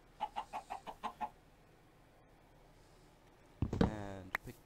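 Minecraft chickens cluck in a quick run of about six short, evenly spaced calls, then fall quiet before a louder, sustained animal sound near the end; no talking over them.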